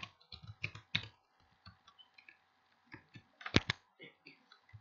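Quiet typing on a computer keyboard, irregular clusters of key clicks and a few sharper taps, close and soft, with no one speaking.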